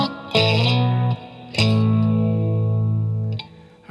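Distorted electric guitar playing a song's rhythm as power chords, loud sustained strums separated by short pauses, heard alone.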